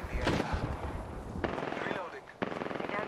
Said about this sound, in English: They're opening fire, I guess.